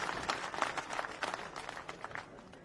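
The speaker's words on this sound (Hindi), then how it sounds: "हम तालियों के साथ में इनका हार्दिक स्वागत करते हैं।" A crowd at a public gathering applauds to welcome the state sports minister Ashok Chandna. The clapping is a dense, steady patter that sounds fairly distant and soft, with no voices over it.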